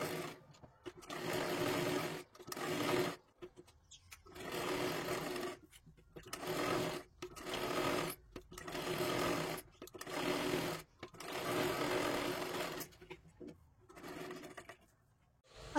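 A sewing machine runs a straight stitch along the side seam of a katori blouse in about eight close bursts of a few seconds each, with short pauses between them.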